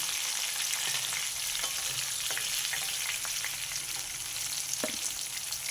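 Bitter gourd pieces frying in a pan, with a bright, steady crackling sizzle throughout and occasional faint clinks and stirs beneath it.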